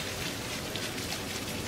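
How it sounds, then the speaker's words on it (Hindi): Heavy rain pours down in a steady, dense hiss with no breaks, a broad wash of constant noise filling the short stretch evenly, with no voices. "ये देखिए बहुत तेज बारिश हो रही है।"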